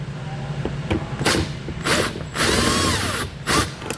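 A power drill backing screws out of a 2021 Chevrolet during a Roadmaster crossbar-style base plate installation, whirring in several short revving bursts, close and loud, without speech.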